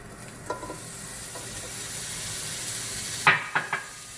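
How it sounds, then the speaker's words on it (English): Sausages caramelizing in a hot pan, a continuous close sizzle with occasional sharp spatters and stirring clatters that grow louder near the end, no talking. "And I'm just going to caramelize these sausages here."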